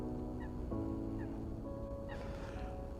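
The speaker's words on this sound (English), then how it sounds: "Kind of like the bird sounds now." Goose-like honking from birds at sunrise on an island in Tokyo, several distinct calls repeating over a steady outdoor background hum.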